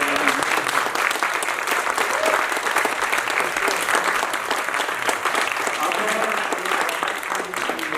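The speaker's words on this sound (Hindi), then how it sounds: "जोरदार तालियां बजाइए।" An audience at a theatre festival bursts into sustained, dense applause after a performance of a play, steady and loud throughout with a faint crowd murmur underneath.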